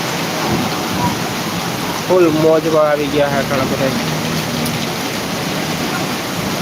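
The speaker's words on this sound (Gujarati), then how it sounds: "અનરાધાર વરસાદ પડે છે જામ કનોળામાં" Heavy rain pours down steadily in Jamkandorna, a loud, continuous roar of water close by, while someone talks briefly over it in the middle.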